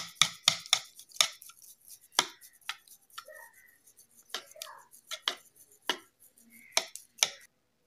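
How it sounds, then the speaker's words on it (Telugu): Spoon scraping and clinking against a bowl while curd is mixed with sugar until creamy, a string of sharp, close taps and scrapes at an irregular rhythm with short pauses between strokes. "షుగర్ యాడ్ చేసుకొని బాగా క్రీమ్లా వచ్చేలాగా మిక్స్ చేసుకోవాలి పెరుగంతా."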